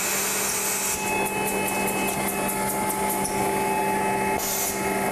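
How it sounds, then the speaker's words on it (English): A commercial laminating machine runs continuously while applying silver foil to sheets printed with black toner, a loud, steady mechanical whine and hum with faint rhythmic ticking through the middle. "I have sheets here with black toner going into the machine. The foil's being applied."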